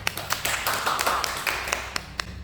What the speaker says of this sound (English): Let's give applause for group 3